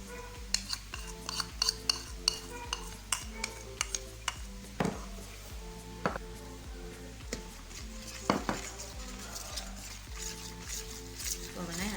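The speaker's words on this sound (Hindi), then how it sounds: "हम पहले डालेंगे इसको घी को बॉल के अंदर।" Ghee is poured into a bowl of flour and sugar for eggless no-bake biscuits, then mixed. Clinks of a metal spoon against the bowl tick steadily under a light music bed, with someone talking throughout.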